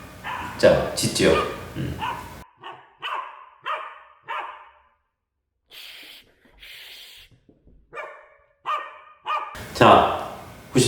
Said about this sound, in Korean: 자, 짖죠?